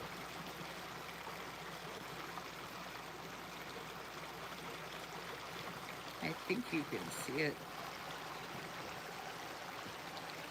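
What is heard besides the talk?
mountain creek flowing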